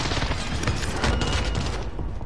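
An airstrike slams into its target in a video game, with dense rolling booms and crackling blasts sustained loudly throughout, rumbling heavily in the low end without pause.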